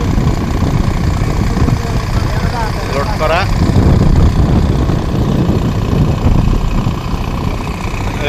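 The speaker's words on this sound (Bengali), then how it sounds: "এই যে আরেকটা ট্রলার" A trawler boat's engine idles with a low, steady rumble that stays under nearby talk throughout.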